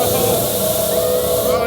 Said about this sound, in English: commencing with disinfectant spray